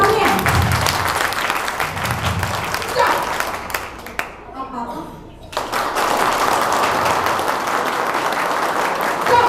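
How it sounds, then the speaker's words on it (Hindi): At a school annual day, mothers in the audience clap loudly in a dense crowd ovation, with voices over it. The clapping dips into a brief near-silence, then swells back to full strength. "तो पहले मैं चाहती हूँ सिर्फ मम्मियाँ तालियां बजाएं जरा"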